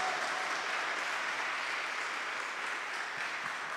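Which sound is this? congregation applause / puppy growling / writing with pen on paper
congregation applause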